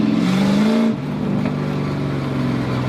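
A Chevy Camaro Z28 1LE race car engine roars close by, rising in pitch under throttle for about a second, then drops to a steady lower rumble as the car pulls away.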